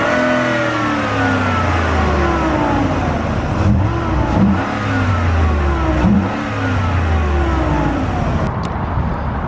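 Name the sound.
Ford Raptor engine revving with whine from under hood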